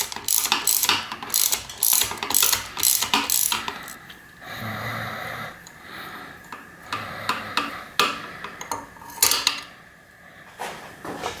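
Ratcheting clicks from a tool unscrewing a bolt on an Answer Manitou suspension fork during a rebuild, rapid bursts of close, sharp clicking broken by a brief quieter pause midway.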